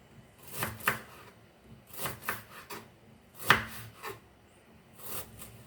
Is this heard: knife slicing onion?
yes